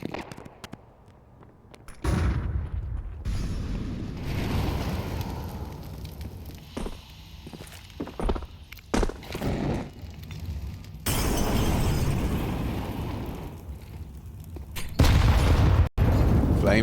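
Grenades burst during a Counter-Strike match, with several loud booms and shattering crashes in irregular bursts among gunfire and in-game noise, followed by stretches of quieter sound and one sharp hit near the end.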